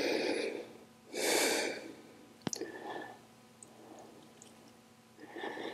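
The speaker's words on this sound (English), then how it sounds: "if this mic is picking up my breathing and it doesn't sound perfect" Heavy breathing from a person practising a level 2 vinyasa flow yoga class, with two loud breathy exhalations near the start and end, a sharp click partway through, and softer breaths in between, with no talk.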